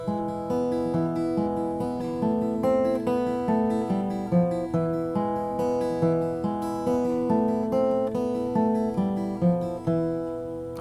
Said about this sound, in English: I'm going to show you a very simple and very popular Malaguena on the guitar here.